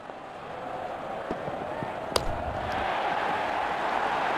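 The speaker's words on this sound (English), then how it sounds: "Made a cracking sound of the bat." A single sharp crack of a cricket bat striking the ball for a six at an ILT20 match, ADKR versus DC, standing out once against steady stadium crowd noise that swells afterward.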